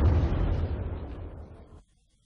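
A heavy World War I bomb blast, one loud low rumbling explosion that rolls and fades over about two seconds and then cuts to near silence.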